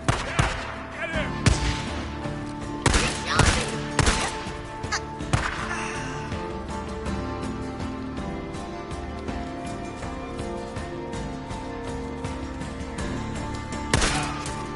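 Gunfire in the game Days Gone, a series of sharp loud shots clustered early on, then scattered bursts over a steady tonal score, with one more crack near the end.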